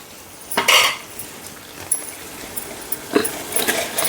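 Chicken pieces dropped into a cooking pot of gravy for pulao, giving clattering metallic clinks and scrapes against the vessel, with one louder burst early, then lighter knocks over a soft background hiss.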